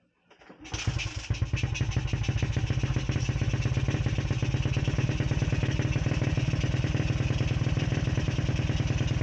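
A Suzuki Smash 115cc motorcycle engine cranks and catches, then keeps running in a steady, rapid, clattering putter up close, with faint voices in the background.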